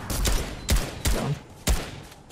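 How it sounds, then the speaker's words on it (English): Gunfire in Fortnite cracks out in four sharp, loud bursts spaced roughly half a second apart, each a punchy blast with a short tail, heard alone without voices. "A bunch of shots east."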